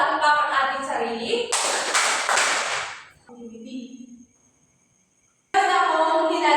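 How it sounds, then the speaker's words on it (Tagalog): A class of pupils gives three claps together, a short loud burst of slapping hands, set between stretches of a teacher talking. "Bigyan na natin ng 3 palakpak ang ating sarili."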